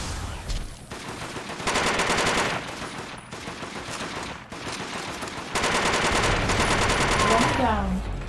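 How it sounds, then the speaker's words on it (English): Gunfire in the Deathgarden video game, with loud sustained bursts of rapid shots in several long stretches over a dense, noisy game soundscape. "Shots are popping off over here."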